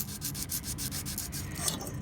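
A folded sandpaper stick rubs briskly back and forth over soldered jewelry in rapid, even strokes, a close, dry, raspy scratching with no talk.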